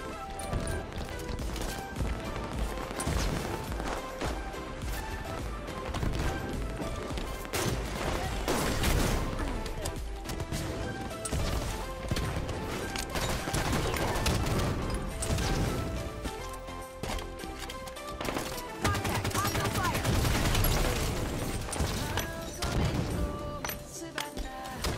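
Dense, continuous gunfire and crashing impacts from a large-team Halo 5 match, heavy and busy throughout with no letup, mixed with music and game effects and a little voice.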